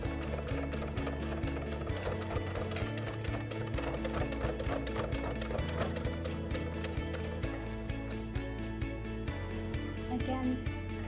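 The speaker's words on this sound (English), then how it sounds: "we'll take this over to the sewing machine" A sewing machine stitches elastic into a fabric face mask at close range, its rapid mechanical stitching rhythm changing pace a few times as it works.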